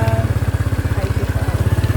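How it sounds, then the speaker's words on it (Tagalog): A motorcycle engine chugs in a steady rapid pulse while riding through rural Bohol, Philippines, loud and close, with road and wind noise around it. "Nag-drive kami ng motor papunta"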